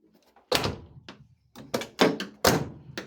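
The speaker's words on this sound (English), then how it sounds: "I'm having trouble closing that door over there" A 1979 Ford Ranchero door being worked shut: a soft thunk, then a series of solid slams and latch clunks in quick succession, close and loud, with no talking.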